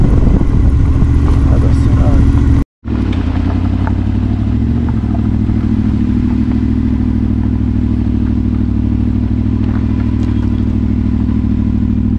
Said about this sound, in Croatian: rekao da je dobro da voze lagano motorom